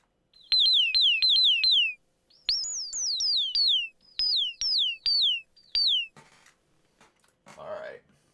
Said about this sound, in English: what you're hearing is the filter resonance on the Crave